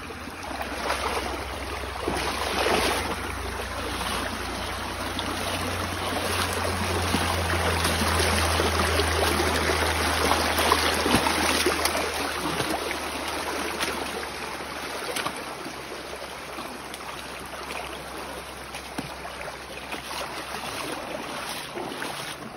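A forest river flows steadily in a rushing broadband wash throughout, loud and continuous, with a low rumble underneath and no voices.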